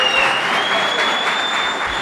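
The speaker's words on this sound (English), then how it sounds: "Please can you guys give Mustafa a round of applause?" Live audience at a talk event applauds in a dense, steady wash of clapping for about two seconds, with faint crowd murmur and a thin electronic tone running beneath.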